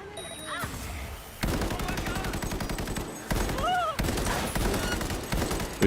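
Rapid bursts of automatic gunfire from a weapon in the video game Cyberpunk 2077, loud and close, with several sustained volleys broken by short pauses and game sound effects mixed in.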